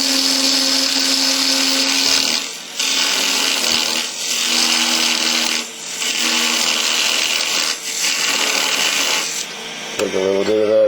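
A parting tool cuts and tapers wood on a lathe, giving a loud, steady high scraping whine in several passes with brief dips between them, ending with a short clatter.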